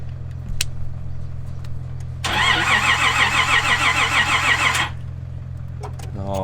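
A Ford AU Falcon engine cranks for about two and a half seconds, a loud pulsing starter churn that fails to catch, between stretches of low idle-like hum and a short voice at the end.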